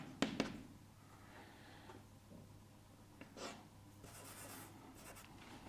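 A pen writes out a maths solution on paper in faint, close scratching strokes, with short bursts and pauses between them in a quiet room.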